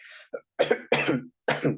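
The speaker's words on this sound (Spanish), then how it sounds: "Perdón, tengo un poco de tos." A short burst of dry coughs, four or five in quick succession, close and moderately loud, preceded by a faint breathy sound.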